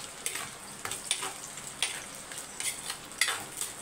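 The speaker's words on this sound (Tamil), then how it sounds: "இப்போ சின்ன வெங்காயம் ஒரு 100 கிராம் சேர்த்துருக்கேன்." Small onions (shallots) fry in a pan with a constant crackling sizzle, broken by repeated scraping stirs at close range, with no talking.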